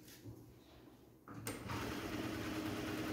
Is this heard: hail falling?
no